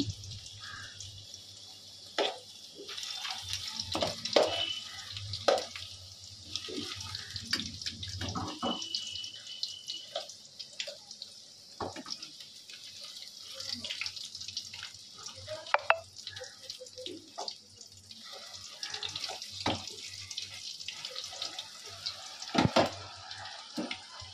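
Potatoes fry in oil in a home kitchen pan, a steady bubbling sizzle that runs throughout, broken by frequent nearby clinks and scrapes of a utensil against the pan.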